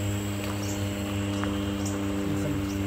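Steady insect drone with faint chirps, a constant low hum underneath and occasional distant bird calls, no voices.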